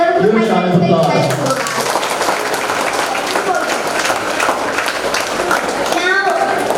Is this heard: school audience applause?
yes